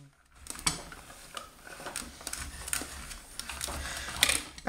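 A small die-cutting machine cranks a baby blue embossing folder, with a card sandwiched between B plates, through its rollers. Close, steady ratcheting clicks and mechanical creaks sound alone, with no talk.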